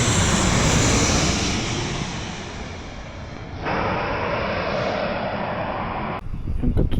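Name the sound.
airplanes flying and landing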